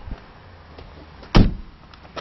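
A single solid thud of a car door closing, sharp and close, standing out against a quiet background.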